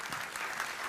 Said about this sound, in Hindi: चलिए ताली बजाइए भाई इनके लिए।